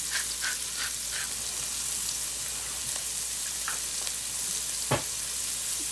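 Onions sweating with a touch of salt in a pan give a steady, soft sizzle and crackle throughout, with a few faint stirring scrapes and a brief knock near the end.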